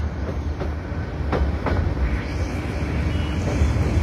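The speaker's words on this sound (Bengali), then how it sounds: "টঙ্গী জংশন রেল স্টেশন প্রবেশ করলো" The Titas Commuter train rolling into Tongi Junction station in Bangladesh, a loud steady rumble with clickety-clack of wheels over rail joints, heard from on board.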